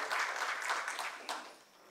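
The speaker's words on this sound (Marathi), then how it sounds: "त्यांचे आपण जोरदार टाळ्या वाजवून स्वागत करूया" A small audience breaks into brief applause to welcome a guest at a gathering, a dense patter of clapping that swells, then quickly fades out.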